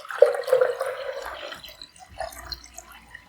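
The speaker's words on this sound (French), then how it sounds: "On va commencer par mettre de l'eau dans la cuve." Roughly a litre of water pouring into the tank of a Babymoov Milky Now baby formula machine: a short, close splashing pour that tapers into faint drips and trickles, with no voice.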